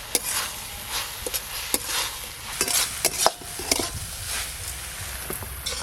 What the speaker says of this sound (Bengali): শাকগুলো এভাবে একটু চাড়িয়ে দিয়ে ভালো করে ভেজে নেব।